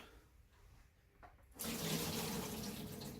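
Buttermilk from soaking rabbit pieces poured into a kitchen sink, a soft trickle first, then a sudden steady, close gush of liquid splashing into the drain.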